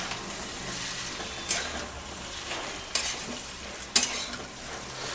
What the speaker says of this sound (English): you just give this pumpkin and give it a mix